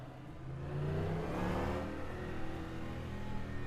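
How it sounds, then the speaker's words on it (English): Hypercar engine in rFactor 2 accelerating at Spa, revving steadily upward with rising harmonic tones, loud and close with no talk over it. "and then we're out in the hypercar"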